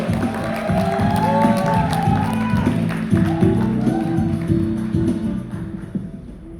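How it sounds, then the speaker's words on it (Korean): An audience at a company growth-camp event claps to welcome a speaker to the stage, with a busy spread of crowd clapping and cheers layered over background music that tapers off toward the end. "자, 뜨거운 박수와 함께 우보미 대표님 모셔보겠습니다. 큰 박수 부탁드리겠습니다."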